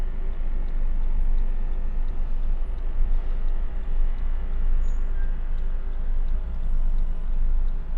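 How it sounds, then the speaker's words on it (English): Dense city traffic on the drive from JFK Airport into Midtown Manhattan, a steady broadband rumble of engines and tires heard from inside a moving car, continuous and loud without a break. "And of course crazy traffic."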